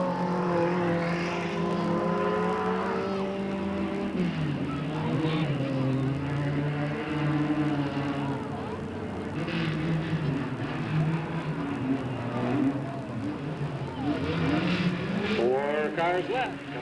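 Race cars circling the oval at Delta Speedway in 1997, a steady loud engine drone with rising and falling pitch as cars pass, under continuous commentary.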